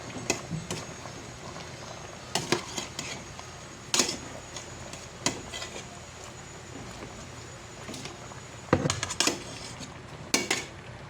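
Pinakbet vegetables being stirred in a cooking pot, with scattered clinks and scrapes of a utensil against the pot at irregular intervals, fairly close and moderate in level over a low background.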